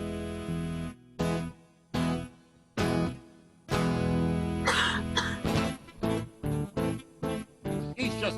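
A man coughs repeatedly and loudly up close, rough hacking fits and throat clearing in an improvised radio show setting, coming in irregular bursts with a sustained rasping stretch midway.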